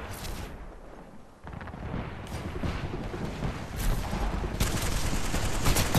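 Gunfire from a gun in Apex Legends comes as dense, loud, noisy bursts and booms that crowd the whole stretch, with a short lull before the barrage thickens again.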